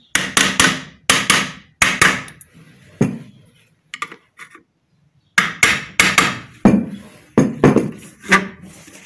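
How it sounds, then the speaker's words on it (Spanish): Heavy hammer blows strike the metal stator of a centrifugal water pump in quick clustered bursts, loud and close, with a short quiet pause midway before the pounding resumes. "Voy a usar el destornillador y el martillo."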